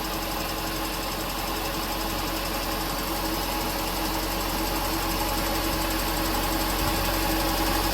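Austin Allegro engine idling after a thermostat repair, a steady close mechanical chug with a faint ticking rhythm, continuous and even with no voices.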